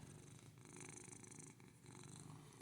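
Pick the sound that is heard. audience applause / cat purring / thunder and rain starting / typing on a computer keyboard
cat purring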